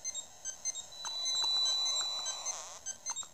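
Warning alarm in Battlezone on an original Game Boy: quick bursts of high electronic beeps, then a longer held tone in the middle and more repeated beeps after, fairly faint and without talk.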